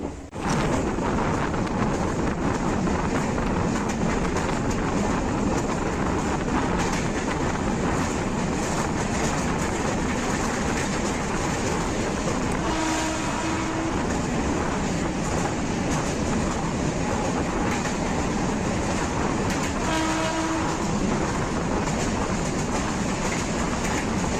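Tambaram–Sengottai express train running non-stop, heard from on board as a loud, steady rumble with rhythmic wheel clatter and wind noise throughout, with a couple of brief tonal squeals, no talk.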